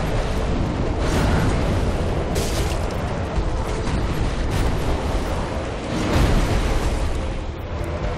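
Bomb blasts in Dark Souls III, a dense, loud series of booming explosions and roaring bursts that fill the whole clip, with heavier surges near the start, middle and end.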